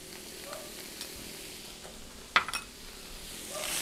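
A German-style chili spice mix with garlic, chili, salt and pepper roasts briefly in a pan, giving a soft sizzle with faint scraping, then a sharp clink of utensil on pan partway through and a brighter rising hiss at the close.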